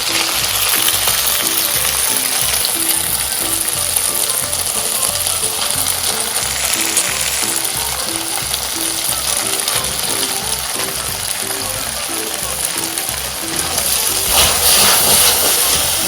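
Noodles stir-fry in hot oil in a wok for Hong Kong style chicken chow mein, producing a loud, steady sizzling hiss with regular clinks running throughout.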